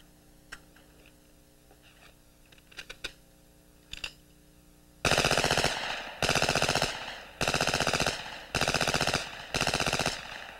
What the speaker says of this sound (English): Fired at a rate of 900 rounds per minute, the resulting firepower available is really impressive.